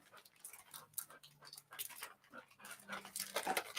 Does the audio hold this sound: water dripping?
no